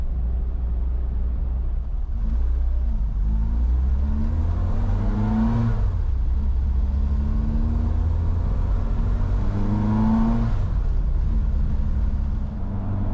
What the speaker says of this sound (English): surprisingly the stub stack wasn't as noisy as I thought it would be